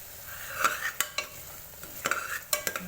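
Tomatoes sautéed in a pan for a mutton dish, with a quiet sizzle under a few sharp scraping and tapping stirs of a spatula, close by, no voices.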